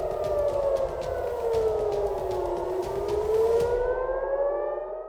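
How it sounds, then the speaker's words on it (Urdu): Air raid warning sirens wail across Israel after Iranian missile strikes, a loud rising and falling civil defense tone that sweeps down and back up before cutting off near the end. "ایرانی حملوں کے بعد اسرائیل بھر میں خطرے کے سائرن بج اٹھے۔"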